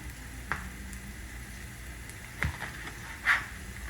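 Gentle, steady frying hiss of diced tomato and pepper browning in a pan, with faint crackles and a few soft pops and clinks, close by, with no talking.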